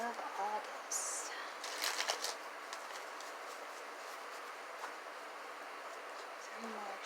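Tarot cards being shuffled by hand during a reading, a few soft papery riffles and flutters at close range, quiet and intermittent, with faint background noise.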